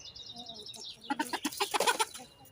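Chickens in a backyard plot, including a Light Sussex, cluck in a quick burst of close, rhythmic calls following a quieter high chirp.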